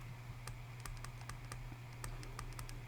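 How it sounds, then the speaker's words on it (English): Quick, light button presses on a calculator keypad, a string of soft irregular clicks over a steady low hum, with no one talking. "we are going to type all of this part into our calculator"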